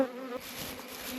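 Honey bees swarm densely during a homestead honey harvest, a steady close insect buzz filling the air with no talk over it.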